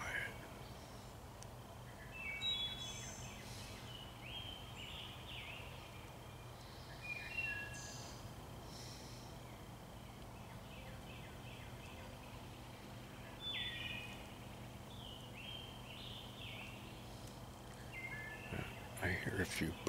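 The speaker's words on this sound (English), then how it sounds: "I hear a few birds in this area" Scattered bird calls and chirps drift through a quiet wooded area, several short faint calls spread across the stretch over a steady low background hum, with no talking.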